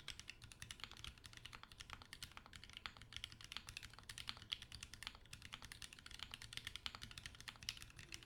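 Typing on a custom-built Chicory40 keyboard with milky yellow switches and cream tops: quick, steady clacking keystrokes, close and fairly quiet, with no talk.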